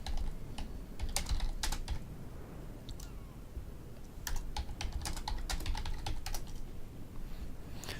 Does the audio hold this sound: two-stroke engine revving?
no